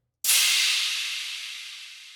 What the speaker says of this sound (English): This is the same crash that I use in all of my songs as well